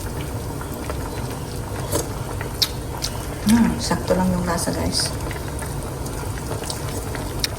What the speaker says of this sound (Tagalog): Ayan na nga, kumukulo na guys.